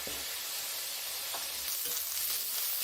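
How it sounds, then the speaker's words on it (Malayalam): Shallots sautéing in a pan for a medicinal shallot kanji give a soft, continuous sizzle with faint stirring clicks, quiet and close, with no voices. "ഒന്ന് വഴണ്ട് വരട്ടെ"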